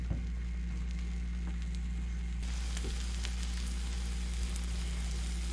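Egg on bread sizzles steadily in a hot frying pan, a constant close crackle with a few small pops and a brief clatter near the middle.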